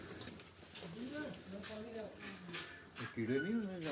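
Racing pigeons cooing on a rooftop, soft repeated warbling coos close by, with a person talking over them.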